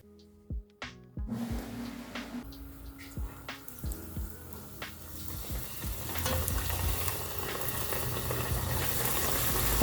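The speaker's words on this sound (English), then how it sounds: "I'm just going to fry our samosas. Just make sure your oil is hot." Raw beef samosas dropped into hot oil for deep-frying, giving a few sharp splashes and plops at first, then a steady crackling sizzle that swells and grows louder, close by, with no talk.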